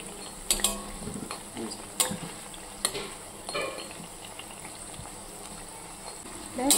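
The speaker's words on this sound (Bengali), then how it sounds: "চারিদিক আমি উল্টে পাল্টে ভাজছি, যাতে কোনো দিকে একদম বেশি ভাজা হয়ে না যায়, বেশি পুড়ে না যায়।" Flour and sugar pitha fry in oil with a soft, steady sizzle, punctuated by several sharp clinks and scrapes as the pieces are turned over in the pan.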